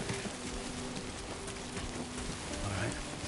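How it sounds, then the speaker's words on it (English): Steady rain patters on surfaces in the video game Death Stranding 2, a dense hiss of drops with faint low tonal game sounds and occasional chirps underneath. "It's already raining."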